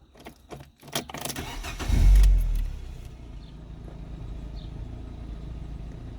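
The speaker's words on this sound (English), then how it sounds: "we'll turn the car on" A Fiat 500 with ESP and hill holder warning faults starts up: a few clicks and cranking pulses, then a loud catch and brief surge, settling into a quieter steady idle.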